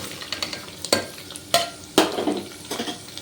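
Onions added to a pan with mustard seeds, cumin, garlic, coriander, curry leaves and dried fenugreek for aloo rice: sharp scraping stirs and clatter over a low sizzle, several distinct strokes spaced about half a second apart, close and fairly loud.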